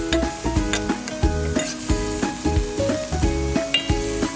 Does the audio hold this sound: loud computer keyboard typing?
no